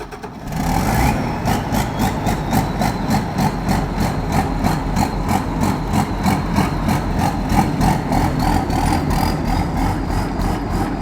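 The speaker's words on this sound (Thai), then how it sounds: "เจ้าของเพิ่นล่องให้เบิ้งเลยครับ" A rice combine harvester's engine revs hard and holds a loud, steady diesel roar with fast rhythmic clatter pulsing through it from start to finish, close by, with no talking.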